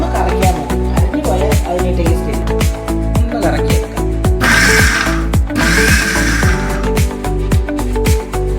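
An electric mixie grinds three or four onions with grated coconut for Kerala paalappam batter, a loud, close motor whir that surges into harsher grinding bursts midway, with a person talking over it.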